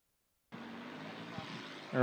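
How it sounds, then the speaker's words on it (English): An Oliver 1755 inline six-cylinder diesel tractor roars at a tractor pull on an infield track, starting abruptly after a brief silence and holding a steady, loud engine drone. "More Oliver action here on the infield track. Oliver 1755 from Kansasville, Marvin Hageman."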